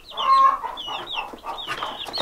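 Farm chickens cluck and murmur close by in a short, calm burst of overlapping calls, with no voices heard.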